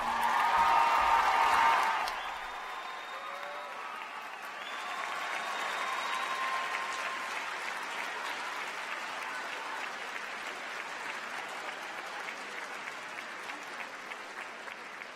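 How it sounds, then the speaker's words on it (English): An audience at a 2022 high school graduation applauds the graduating class, a loud burst of clapping at first that then settles into a softer, sustained round of applause. "Let's give it one more round of applause for the class of 2022."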